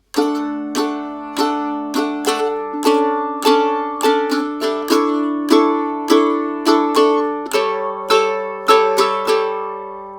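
Bright plucked mandolin chords struck one after another in a steady rhythm, each ringing briefly, climbing up the neck in pitch over time, close and alone.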